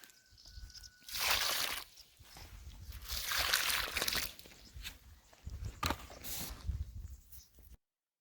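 Warm water poured onto pepper seedlings in garden soil, several soft sloshing and trickling bursts with brief pauses between pours, close and moderately loud.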